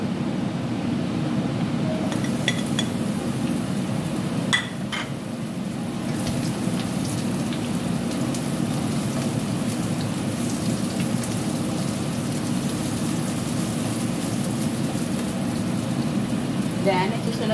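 Onions hit hot cooking oil in a pan for a Filipino shrimp dish, setting off a steady, hissing sizzle like rain that runs on and on, with a few clinks and a voice over it.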